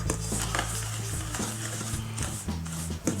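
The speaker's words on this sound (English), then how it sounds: "Now just give it a good mix through, just so all the ingredients are combined." Sugar, self-raising flour and melted butter being stirred together in a bowl, a continuous scraping, swishing mix with brief clinks of a utensil, close and alone.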